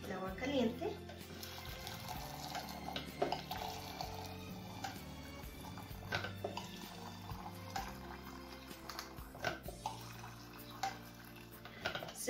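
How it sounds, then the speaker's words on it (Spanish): Hot water is poured into glasses, a faint trickling and splashing with small clinks, under a person speaking quietly nearby. "Ahora voy a llenar el agua caliente."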